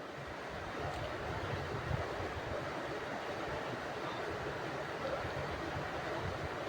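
Water goes into a pan of chickpea curry and is stirred, making a steady, dense hiss and bubbling rush that holds at an even level throughout, with no talking.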